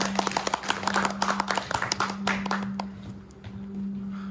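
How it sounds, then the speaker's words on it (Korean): A lecture audience applauds a speaker's introduction with brisk clapping that swells and then thins out toward the end, over a steady low hum. "박수로 모시도록 하겠습니다. 박수 모십니다."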